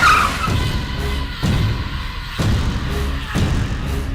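A car in a dramatic film scene revs and pulls away, its engine surging in repeated bursts with low thumps, loud and close, with no one speaking over it.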